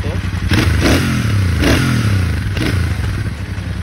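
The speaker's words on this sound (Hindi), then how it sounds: "थोड़ी सी साउंड सुना देता हूँ बाइक की आपको" A Royal Enfield Super Meteor 650 motorcycle revs hard on the throttle, giving three or four loud surging blips over a deep, steady idling rumble, heard close up with no voice over it.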